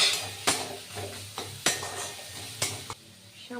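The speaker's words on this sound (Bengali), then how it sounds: "এবার এটাকে নাড়তে থাকবো।" Mashed cauliflower being stirred in a pan while it sizzles, with a few sharp scrapes and knocks of the utensil against the metal over a steady low frying hiss, close and moderately loud.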